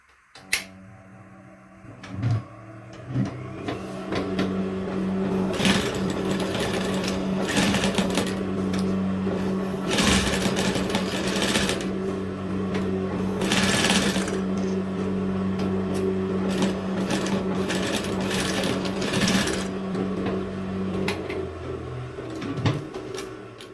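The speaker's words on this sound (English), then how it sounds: "So I've successfully sewn the seam, as you can see, along the line." A sewing machine stitches a straight seam joining two pieces of fabric, its steady mechanical whir running almost continuously for about twenty seconds with brief pauses and soft clicks, close and fairly loud with no talking.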